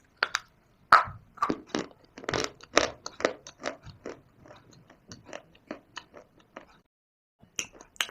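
Crunching bites into Punjab mitti shale stone clay: a rapid series of sharp, close, dry crunches and snaps, dense at first and thinning out, with a brief pause before a final pair of crunches.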